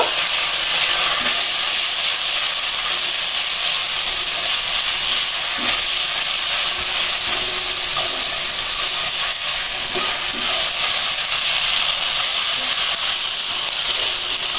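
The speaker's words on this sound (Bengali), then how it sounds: "এটুকু ভালো করে কষিয়ে নিব" Mustard and poppy seed paste with ground coriander sizzles steadily in a pan while being sautéed for a fish curry, a close, continuous hiss and crackle with occasional stirring scrapes throughout.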